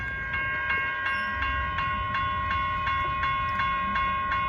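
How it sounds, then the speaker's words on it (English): A Caltrain horn sounds as the train departs the station in California: a steady, loud chord of sustained tones holds across the whole stretch, over a rhythmic clicking of the train and low rumble. "before he leaves, he'll sound the horn once, and the gates will be activated"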